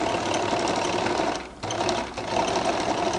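A sewing machine stitches a seam on a flared skirt with a fast, steady mechanical whirring hum heard up close. It dips briefly twice as stitching slows, then runs again at full speed.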